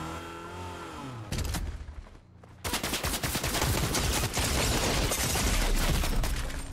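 Rapid automatic gunfire in the video game Fortnite, dense bursts of shots after a brief engine-like rumble and a short lull, continuing loud and sustained to the end.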